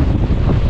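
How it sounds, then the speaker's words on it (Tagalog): Strong typhoon wind at signal number 4 buffets the microphone in a loud, continuous, close roar with rough low-frequency rumble and no pauses. "mas malakas po ang hangin ngayon compare kagabi"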